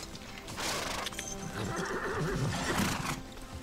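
A horse neighs and whinnies in a loud, wavering call that rises and falls over a few seconds, with faint hoof clip-clop and outdoor bustle underneath in a German fairy-tale film scene.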